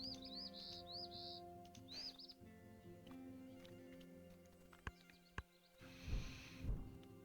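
Repeated chirpy bird calls in short bursts from the Wingspan board game app, over a steady musical background, followed later by a few sharp clicks and a brief louder rustle.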